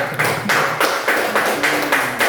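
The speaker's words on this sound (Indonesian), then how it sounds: "tepuk tangan untuk kelompok 1 ya" A class claps for group 1 in a rhythmic unison pattern, several loud grouped bursts of hand claps repeating at a steady beat, close and with no talk over them.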